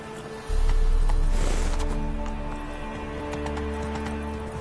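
Roach, the horse in the video game Witcher 3, gallops with a sudden onset of rhythmic hoofbeats over a low droning game backdrop, fairly loud and close, with a brief whinny-like burst early on.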